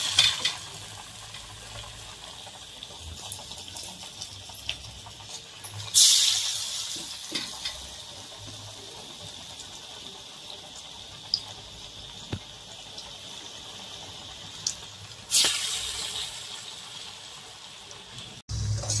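Chana dal vadas sizzle in hot oil with a quiet, steady frying hiss, broken by two sharp bursts of crackling around 6 and 15 seconds as fresh vadas drop into the pan.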